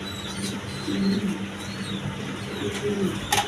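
Pigeons in a Bangladeshi pigeon seller's loft, including a male, give soft repeated coos close by over low background noise, with a short sharp knock near the end.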